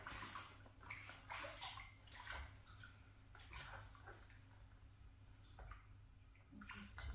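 Water sloshing and dripping as a foot is rinsed in a basin during a pedicure, with soft splashes and trickles close by and no talking.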